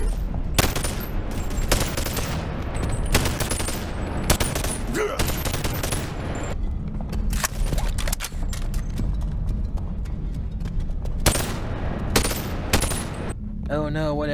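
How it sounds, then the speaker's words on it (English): Rapid bursts of gunfire in the VR game Bonelab, fired in repeated volleys with short pauses, loud and close, with a voice talking between the shots. "we are going to shoot these guys in the face"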